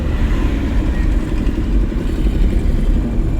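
Car engine running steadily while driving on the road during a driving lesson, a continuous low mid-pitched hum close by with no talk.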